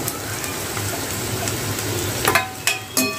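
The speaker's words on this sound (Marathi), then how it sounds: "छान असं फ्राय करून घेऊया." Onion and raw mango frying with salt and turmeric in a pan, giving a steady close sizzle broken by a few brief stirring clatters near the end.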